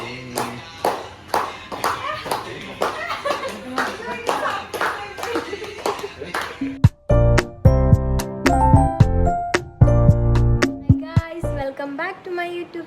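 Hand clapping at a birthday celebration, a quick run of sharp claps in a steady rhythm, followed by louder, more uneven claps mixed with voices and tinkling sounds nearby.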